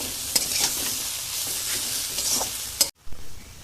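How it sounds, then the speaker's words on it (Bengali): Kashmiri chilli powder frying with papaya, potato and vegetables in a pan, a loud continuous close sizzle with a few stirring knocks, cutting off abruptly near the end. "কিছু পরিমাণ কাশ্মীরি লঙ্কার গুঁড়ো দেব, দিয়ে একটু ভেজে জল ঢেলে দেব।"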